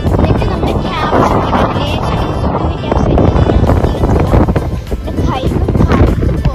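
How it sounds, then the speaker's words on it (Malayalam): Strong wind buffets the microphone in loud, continuous gusts with rough low rumbling, apparently out on open water, for several seconds. "പിന്നീട് ഭയങ്കര കാറ്റാണ്"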